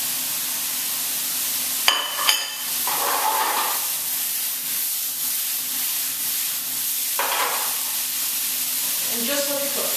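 Chopped eggplant, tomatoes, green pepper and onion sizzle in a single pan, a continuous moderate hiss with a few short clinks and stirring scrapes of a utensil.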